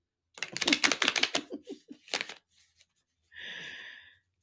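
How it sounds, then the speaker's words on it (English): Cards are shuffled for a tarot reading: a fast riffle of crisp flutters at the start, slowing at the end, then a brief rasping slide as the deck is squared, close and alone. "Mom has to shuffle now."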